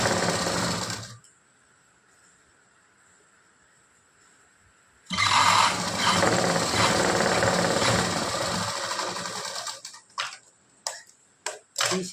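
Sewing machine stitching a blouse yoke with four tucks, heard in a short burst, then a steady run of about five seconds, then a few quick stop-start bursts. Loud and close, with no talking.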